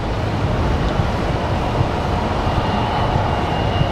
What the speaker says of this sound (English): we've got Lufthansa in that A340 going to touch down here center